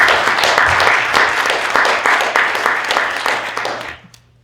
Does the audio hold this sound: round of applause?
yes